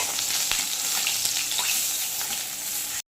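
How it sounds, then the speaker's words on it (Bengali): Potatoes frying in oil tempered with cumin, a close, steady sizzle with a few scraping stirs, short and alone. "এখানে জিরে একটু ফোড়ন দিয়ে আলুগুলো ভাজা বসিয়ে দিয়েছি বন্ধুরা"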